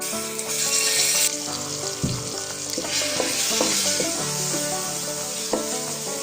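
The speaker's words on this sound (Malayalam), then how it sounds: "ഇതിലേക്ക് നമ്മൾ അരച്ചു വെച്ചിരിക്കുന്ന മസാല ചേർത്ത് ഒന്ന് ഫ്രൈ ചെയ്തെടുക്കാം" Ground masala hits a little oil in a pan for Kerala-style rabbit roast, sizzling loudly with steady frying crackle and occasional scraping stirs, close and continuous with no voices.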